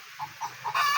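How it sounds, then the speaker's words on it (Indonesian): A hen in a remote Indonesian village clucks after laying an egg, with three short clucks in a steady rhythm, then a louder rising cackle, close by and heard alone. "Saya yakin itu ayam habis bertelur tuh ya"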